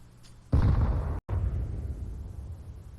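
A grenade detonates in Counter-Strike: Global Offensive on the Mirage map during a professional esports match, a sudden loud blast with a rumbling tail that runs on under faint background noise.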